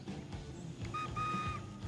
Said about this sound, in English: And there's his fish whistle to go with it.